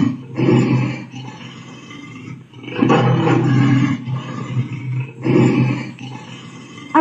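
An Alexa smart speaker plays a recorded lion roar: three deep, rumbling roars rising and falling, loud and close, with short dips between them.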